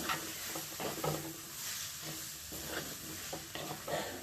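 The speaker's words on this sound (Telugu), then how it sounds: "ఎగ్ తీసుకొని కలుపుకుంటున్నాను బాగా కలుపుకోవాలి" An egg is stirred and mixed in a pan in quiet, rhythmic strokes. Soft scraping repeats about twice a second over a low, faint sizzle, with no voices.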